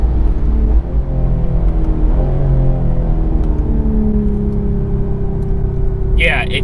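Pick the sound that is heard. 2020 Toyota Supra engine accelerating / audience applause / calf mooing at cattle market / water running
2020 Toyota Supra engine accelerating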